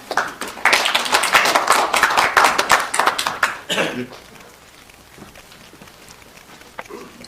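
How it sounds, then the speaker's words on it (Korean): Applause from an audience welcoming a guest speaker, a Seoul National University law professor, at the founding event of an alternative media cooperative; dense clapping for about four seconds, then fading to a quiet room. "박수로 맞아주시기 바랍니다"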